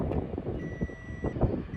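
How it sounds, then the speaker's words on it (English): Contactors on the incoming power of a Lennox packaged rooftop unit with a dead short to ground give off a steady electrical beep, with a thin sustained tone over a busy low hum and clatter across the short span. "all of the contactor at incoming, they are beeping because they are connected parallelly"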